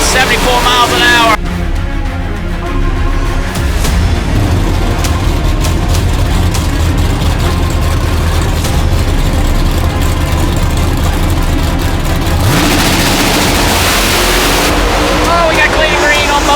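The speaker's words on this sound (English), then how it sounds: "Looks like we got us a drag race dead even at the mile an hour going for the 8." Drag race cars roar at the NMCA All Star Nationals, a loud, dense engine blast that runs throughout and swells sharply at the start and near the end, with an announcer talking over it.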